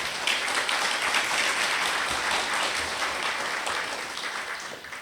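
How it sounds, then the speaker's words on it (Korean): Audience at an awards ceremony giving loud, sustained applause, a dense, steady wash of clapping that tapers slightly at the close. "큰 박수 부탁드립니다"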